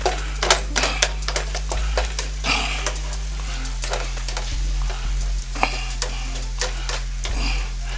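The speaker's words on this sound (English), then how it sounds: "Finish chopping our meat up." Ground meat for chili sizzles steadily in a hot pan while a utensil scrapes and taps at it in quick, irregular strokes, close and clear, with no talking.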